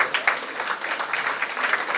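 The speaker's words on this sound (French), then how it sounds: "M. Dia Amadou, sous vos applaudissements, s'il vous plaît." A crowd at a graduation ceremony applauds a speaker being called to the podium, brisk continuous clapping that carries on throughout.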